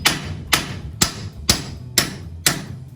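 Hammer blows knocking a kingpin out of a truck axle, six sharp metallic strikes at an even half-second rhythm, close and loud with ringing between hits.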